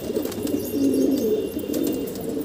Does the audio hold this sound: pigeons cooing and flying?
yes